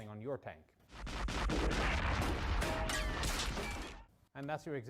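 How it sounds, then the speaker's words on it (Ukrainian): A sustained burst of rapid machine-gun fire in a war film scene, loud and dense for about three seconds, with someone speaking just before and after. "її просто навели горизонтально і дали чергу"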